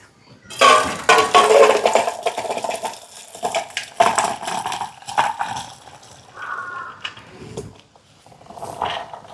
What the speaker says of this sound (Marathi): आता मी केटल बंद करते आणि आपण पाणी सेपरेट करून घेऊयात.